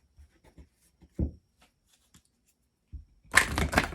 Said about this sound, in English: I'm going to show you one more thing right after I shuffle these